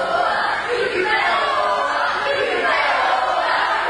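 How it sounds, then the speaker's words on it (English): At a wrestling show, a crowd jeers a wrestler, a dense continuous wash of shouting voices that swells and dips slightly, close and loud throughout. "And the crowd's still getting on his case."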